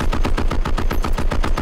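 Rapid, continuous automatic weapon fire from a video game, a steady stream of sharp shots at about ten per second with no pauses, loud and close.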